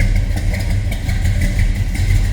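A 1967 Chevrolet Bel Air with a 350 small-block V8, Holley 4-barrel carburetor, headers and full dual exhaust idles steadily with a deep, even low rumble close by, no talk over it.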